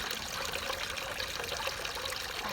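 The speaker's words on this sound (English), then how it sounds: "our filter's clogged is because the waterfall is barely working." A garden pond waterfall with a clogged filter trickles weakly outdoors on a windy day, a steady, close hiss of splashing water with no pauses or other sounds.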